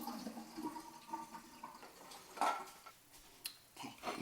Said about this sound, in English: Now that your eggs are cool, it's time to pour out the water.